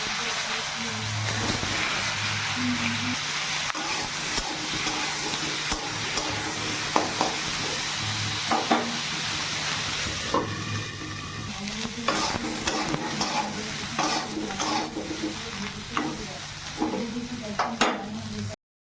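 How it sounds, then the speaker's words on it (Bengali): Cauliflower frying in oil in a wok, a steady sizzle with stirring scrapes and clatter throughout, close and continuous, with a voice talking over parts of it. "তো ফুলকপি ভাজা হয়ে গেছে"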